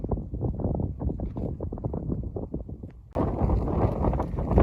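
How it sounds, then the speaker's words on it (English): Blustery January wind buffets the microphone on a mountainside near Suilven's west face, a low gusting rumble that jumps suddenly louder and harsher partway through. "it's a bit blustery now"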